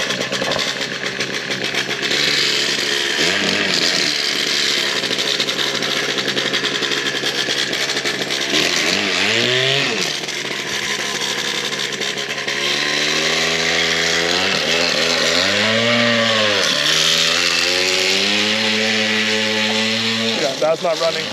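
A small GoPed motor scooter engine runs rough and loud, its buzzing revs rising, sagging and bogging down again and again in uneven swells throughout.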